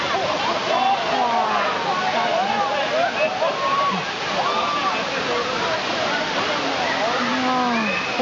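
Tat Kuang Si waterfall in Laos roars steadily and close, with crowds of voices talking and calling over the constant rush of water.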